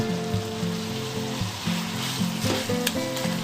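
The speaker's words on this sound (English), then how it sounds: "Continue to sauté on high flame setting and reduce the soy sauce and oyster sauce." Pork adobo with soy sauce and oyster sauce sautés over a high flame, a loud, steady sizzle and crackle with occasional stirring scrapes in the pan.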